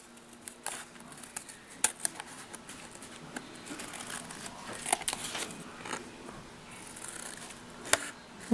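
Scissors snipping off excess card stock around the back piece of a handmade snow globe card, a close, dry run of small crisp cuts and paper crinkles over quiet room tone.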